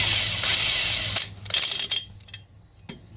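Ratchet wrench snugging lug bolts on a Dexter trailer axle of a 2018 Hideout camper: close, dense ratcheting bursts for about two seconds, then a few sparse clicks.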